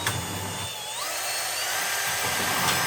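Power drill at full speed boring into a plastic 5 gallon bucket, a high-pitched steady whine with a sharp whirring start, held loud and close for the whole span.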